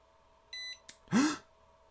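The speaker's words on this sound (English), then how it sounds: "It beeped. You heard it beep, and I heard it beep." An Ant BMS on a DIY e-bike battery gives a short, clear electronic beep when switched on, followed by a brief click and a soft breathy exhale in a quiet room.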